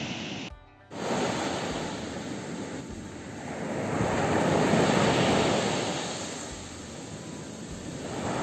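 Steady roar of Black Sea surf washing onto Uchkuevka beach in Sevastopol, swelling and easing in broad waves, close and loud with no voices.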